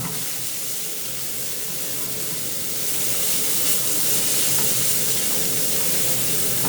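Finely chopped green chilies sautéing lightly in a pan: a loud, continuous broadband sizzle and hiss that swells slightly halfway through, with faint stirring underneath.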